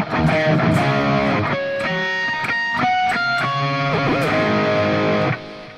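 A distorted electric guitar plays the riff from a song at full speed, with dense sustained chords and ringing harmonics, loud and alone with no voices.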